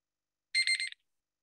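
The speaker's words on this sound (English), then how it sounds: "And our timer is going to ring" A countdown timer's electronic alarm rings in one short burst of rapid, bright beeps lasting under half a second, alone with silence around it.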